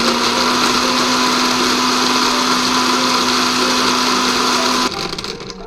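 A blender whirs steadily, blending salad dressing ingredients at a high, even drone for about five seconds before it cuts off and the pitch drops.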